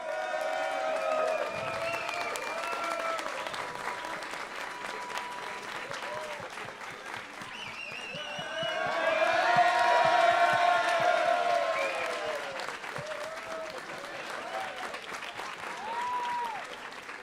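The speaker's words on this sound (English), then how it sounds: "Keep clapping, please, there's more." An arena crowd in São Paulo applauds and cheers for a Brazilian Dynasty grand final champion, sustained dense clapping with whoops that swells to a louder peak midway, while an announcer talks over it.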